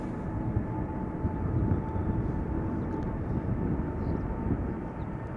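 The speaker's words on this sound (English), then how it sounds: "Right, there she is, KLM flight 735 going to Willemstad, Curaçao, a 777-300ER" A KLM Boeing 777-300ER jet, six years old, at Schiphol makes a steady, fairly faint engine rumble with a thin whine, holding level throughout.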